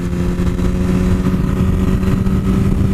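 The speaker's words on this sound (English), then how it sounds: "Release throttle, pull clutch lever and kick up to fourth, roll back onto throttle" A Yamaha R1 sport motorcycle engine revs loudly and steadily at close range while upshifting into fourth gear, a sustained buzzing drone with no voices.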